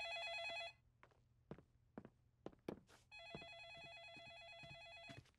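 A telephone rings in two electronic bursts in the cartoon Caillou, with soft footsteps and thumps in the quiet gap between them.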